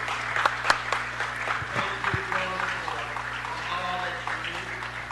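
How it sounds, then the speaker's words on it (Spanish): Applause rises in a city council chamber to honor two veterans' advocates, a soft, fairly distant patter of clapping with a few sharper claps and a low steady hum underneath, murmuring voices blending in. "Buen trabajo, un gran aplauso."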